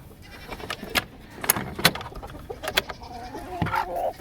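Chickens and a Dominique rooster, freshly let out to food on a homestead, make a lively mix of clucks, squawks and short calls, some close and loud, over rustling movement outdoors.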